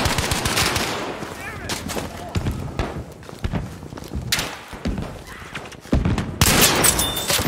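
Rapid gunfire from a shooter video game, with bursts of automatic fire and single shots crackling loudly and nearly nonstop, a brief lull midway before another heavy volley near the end.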